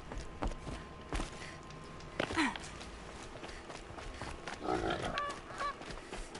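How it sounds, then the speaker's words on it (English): Geese honk loudly in a few bursts in the Horizon video game, with faint footsteps and ambient game sound underneath. "Ah, oh, geese! They're so cute!"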